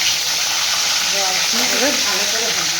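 Large cut fish pieces deep-fry in hot oil with a loud, steady, crackling sizzle throughout, and a faint voice murmurs briefly beneath it.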